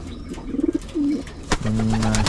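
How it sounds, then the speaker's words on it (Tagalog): Pigeons coo in a loft in a few short, close, soft calls, with brief pauses between them and no talking. "Tingnan ko yung mga bio pigeon natin."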